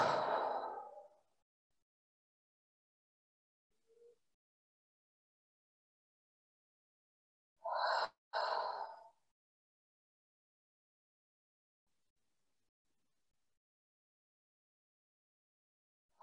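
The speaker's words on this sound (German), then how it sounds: "3-mal tief in den Bauch ein- und ausatmen" Deep belly breathing during a relaxation exercise, with a couple of slow, audible exhalations like sighs, one at the start and another later, separated by long silence and heard close and soft.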